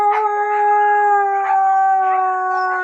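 Husky dogs howl together before feeding time, a sustained chorus of overlapping, wavering high howls that continues with no break.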